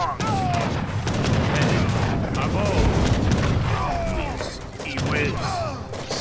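Bombard cannon fire in Age of Empires 3 during a Janissary battle: repeated booming blasts and crashing impacts amid a busy mix of battle effects, with someone talking over it throughout.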